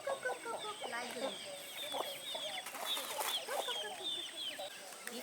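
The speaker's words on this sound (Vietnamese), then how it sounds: "đuổi mấy con gà vào đây nhá" A flock of short-legged, jungle-crossbred chickens clucks and chatters continuously around a rural farmyard, with many overlapping calls at moderate distance.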